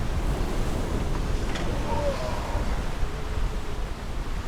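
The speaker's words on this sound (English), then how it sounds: "21 knots against 3 to 6 meter waves" Heavy North Atlantic seas of 3 to 6 meters pound a large 300-meter ship steaming at about 21 knots, a continuous loud roar of surf and wind buffeting the microphone with no gaps.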